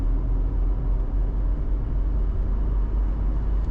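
Mercedes-Benz W124 with 400,000 km on it accelerating on a highway, its engine a constant heavy low drone with road rumble, heard from the cabin without speech.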